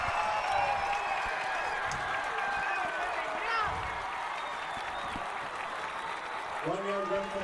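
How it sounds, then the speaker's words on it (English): Home-section crowd at a high school football game between Eagan and Rosemount roaring after a short touchdown run, a broad sustained cheer heard from a distance with scattered clapping and a brief tonal sound near the end. "Listen to the roar of the crowd."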